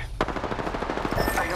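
Fast automatic gunfire in Apex Legends, a sharp opening shot followed by a rapid, even burst of rounds over about a second and a half, loud and close.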